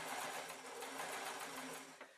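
A sewing machine hemming the bottom of a shirt hums with a fast, steady mechanical whir, close and continuous, easing off slightly at the very end.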